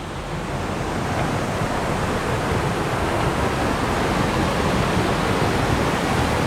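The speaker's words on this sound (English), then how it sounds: "we are going to step into the waterfall and get you up close and personal with Battle Creek Falls" Battle Creek Falls, a waterfall in Utah, roars up close as a loud, steady broadband rush of falling water, unbroken throughout with no voices.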